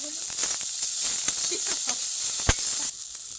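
Tomato and green chili frying in a pan for a paneer sandwich, giving a steady, bright sizzling hiss close up, with a few soft clicks and a faint voice underneath.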